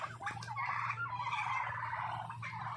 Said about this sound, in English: There are turkeys.